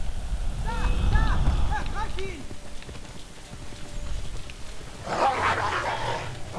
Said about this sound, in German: Wölfe werden uns helfen.